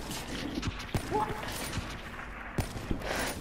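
Gunfire in the video game Call of Duty Black Ops 3: scattered sharp shots and clacks at irregular intervals, a few louder cracks standing out over a low game background.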